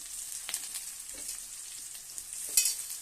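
Bitter gourd and tomato sautéing in a hot pan give a steady, soft frying hiss, broken by a few light stirring scrapes and one sharper sizzle burst near the end.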